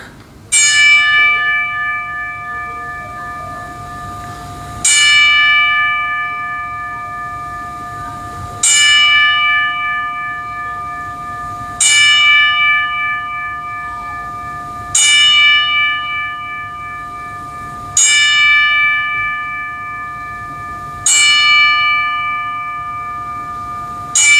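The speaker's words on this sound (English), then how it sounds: "join me into a moment of silence of a 10 ring bell salute to Bray Wyatt and Terry Funk" A single bell strikes at regular intervals of about three seconds for a ten-bell wrestling tribute salute, each clear ring decaying slowly into near silence before the next.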